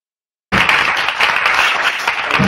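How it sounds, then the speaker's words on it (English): A conference audience at a philanthropy panel bursts into applause after silence, a sudden, dense, even roar of clapping that holds steady and loud to the end. "let's give them a applause."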